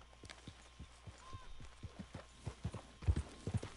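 Horse hooves clip-clop in a steady trotting rhythm in the video game Red Dead Redemption 2, the hoofbeats fairly faint and growing a little heavier toward the end.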